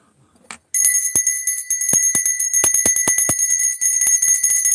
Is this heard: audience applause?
no